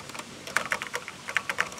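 Keys clatter on a vintage Texas Instruments TI-99 home computer keyboard, a close, quick run of crisp plastic clicks with a few firmer strokes, heard alone.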